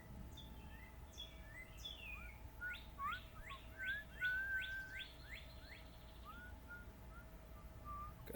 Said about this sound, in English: God, these birds are beautiful